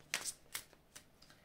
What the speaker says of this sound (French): je vais prendre une carte ici